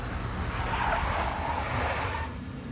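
A big black Mercedes skids with squealing tires in the video game Max Payne, a sustained loud screech over a low engine rumble that holds for over two seconds and then eases off slightly.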